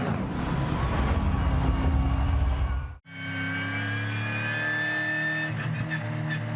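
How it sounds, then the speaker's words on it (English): Supercars race cars roll in a pack down pit straight at Albert Park under safety car, a steady loud engine drone with a brief cut partway through, then sustained rising engine tones. "the cars roll down pit straight at Albert Park"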